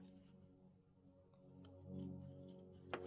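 Scissors snip through quilt fabric during finishing work, a few soft, close crisp cuts and rustles, faint and alone.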